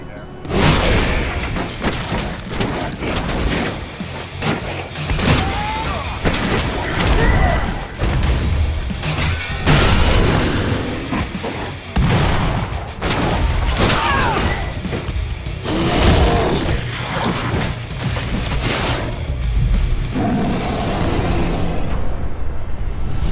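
Heavy booms, crashes and whooshing blasts from explosions in the video game Werewolf: The Apocalypse – Earthblood, loud and close, with gunfire-like bursts and game dialogue running through.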